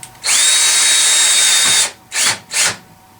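Power drill set to its weakest setting drives screws into a wooden fret board jig: one long loud whirring run, then two short bursts, followed by quiet.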